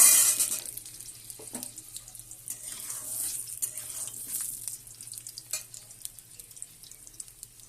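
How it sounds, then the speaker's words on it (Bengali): Potatoes hit hot oil in a wok, starting with a loud burst of sizzle. It settles into a busy, crackling fry with scattered pops, and no voices are heard. "এবার এর মধ্যে আলুগুলোকে ছেড়ে দেবো।"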